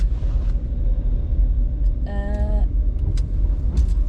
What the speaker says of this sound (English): So just driving now.